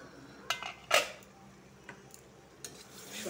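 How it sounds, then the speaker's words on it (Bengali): A pot lid lifted off chicken kosha cooking on the stove, giving a few sharp metallic clinks and clatters, one louder knock near the start, then quiet pan noise. "ঢাকনাটা খুলে দেখব।"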